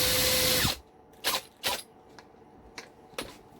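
Power drill driving a Sand-O-Flex flap sanding attachment held in a normal chuck, a loud continuous whir for under a second that cuts off, followed by several short separate bursts of spinning.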